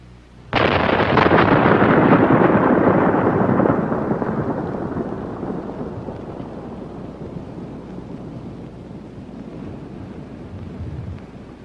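Primer cord detonation of 61 shot holes in a crater field, one sudden loud blast followed by a long rumbling roar that slowly fades, heard alone.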